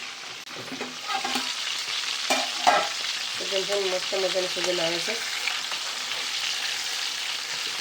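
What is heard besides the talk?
pomfret fish frying in a pan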